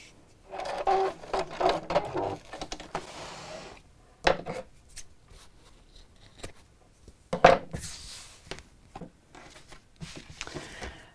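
A sewing machine stitches binding around the edge of a bag base, running in several bursts of varying length separated by pauses, close and moderately loud with light handling noises between runs.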